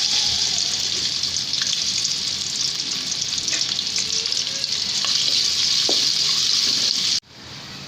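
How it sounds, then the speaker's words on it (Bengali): Onions frying crisp in oil for a plain pulao make a loud, dense, continuous sizzle up close, with faint stirring scrapes. It cuts off abruptly near the end. "এবার আমি পেঁয়াজ বেরেস্তা করে নেব।"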